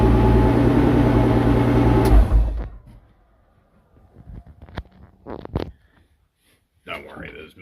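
A Nissan March with a VQ35DETT engine and a new exhaust runs with a loud, rough, throbbing drone that cuts off after about two seconds. Scattered clicks, knocks and a brief noisy burst follow in near silence.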